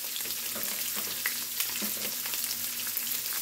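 Onions sizzle and fry on a hot grill beside a nearly cooked burger, a steady dense crackle with scattered sharper pops, close and fairly loud, no talking.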